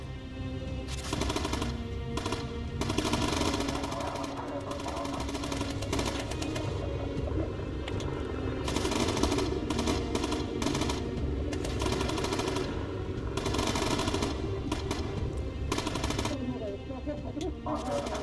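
Machine guns firing in the video game Bomber Crew, sustained rapid bursts of loud gunfire with brief pauses between them, mixed over game engine drone and background sounds.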